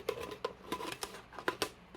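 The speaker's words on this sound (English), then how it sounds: "Just going to cut it with the scissors quick." Scissors snip through plastic in several quick, close cuts, irregularly spaced and fairly soft, with no talking.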